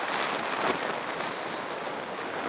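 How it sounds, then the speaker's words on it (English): Strong hilltop wind buffets the camera microphone in a steady, loud rush of broadband noise that holds without any voice. "It's so windy up here. It's blowing my camera."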